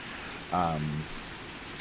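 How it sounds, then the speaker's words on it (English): Rain falls steadily around a person sheltering under an umbrella outdoors, a continuous soft hiss. A brief tonal voice-like sound rises over it for about half a second. "sit out in the rain here and kind of let you guys pick up on the noises of the rain here"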